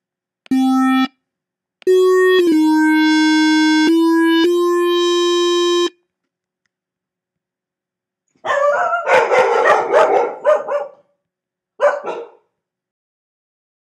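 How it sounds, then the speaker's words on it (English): After a few sustained synth notes, dogs bark in a loud, rapid burst, followed by a brief pause and one more short bark. "the dogs are loud"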